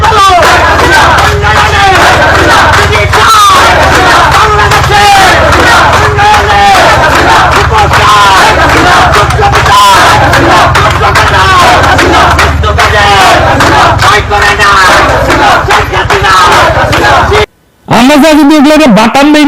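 A loud crowd chants and shouts in rhythmic unison at a street procession, a dense roar of many voices with traffic noise beneath, cutting off abruptly near the end.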